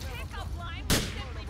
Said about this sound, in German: ich schieße die Taube vom Auto aus